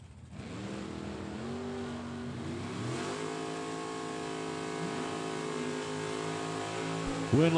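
A Chevrolet Camaro and a Chevy II idle and rev at a drag strip, a steady engine rumble with rising pitch sweeps and a sharper burst at the very end, fairly distant.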